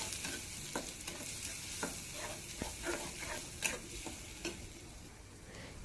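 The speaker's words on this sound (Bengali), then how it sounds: "পেঁয়াজ ব্রাউন কালার হয়ে গিয়েছে, এখন আমি ব্লেন্ড করা সবগুলো মশলা দিয়ে দিচ্ছি।" Blended spices fry with browned onions in a pan, a soft steady sizzle broken by regular scraping strokes as the mixture is stirred, close and fairly quiet.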